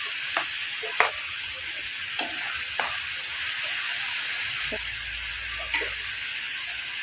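Onion, chili, carrot and beans sauté in a pan over low heat, a steady sizzling hiss with occasional stirring clicks, close and continuous with no talking.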